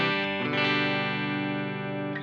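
An electric guitar chord rings out through an AI-made amp simulator with moderate gain and no reverb, giving a distorted, sustained tone that decays slowly over about two seconds, played alone.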